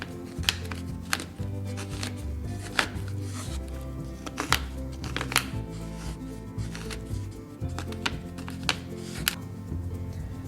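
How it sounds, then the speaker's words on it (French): A knife roughly chopping dark baking chocolate on a board, a steady run of sharp, close, fairly loud chops with a few harder strikes mixed in. "je suis en train de commencer par hacher grossièrement du chocolat noir à pâtisser"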